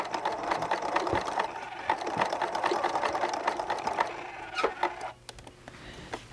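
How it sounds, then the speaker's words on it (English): A domestic sewing machine stitches a zigzag and back stitch on a fabric pouch, a steady close-up motorized whirring with rapid needle patter that pauses briefly and restarts near the end. "this is where you'll probably want to zigzag and do a back stitch"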